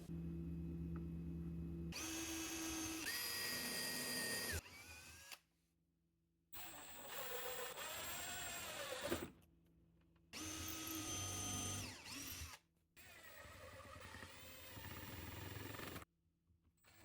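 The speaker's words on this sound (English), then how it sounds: "Now with the mounting holes drilled" A power drill bores mounting holes for a wall oven cabinet in several sustained whirring bursts, the pitch shifting as the bit loads and frees, separated by short silent gaps.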